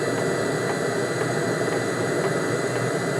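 A Webasto diesel heater running on its high setting gives off a steady, loud whooshing roar with an even blower hum, constant throughout and close by.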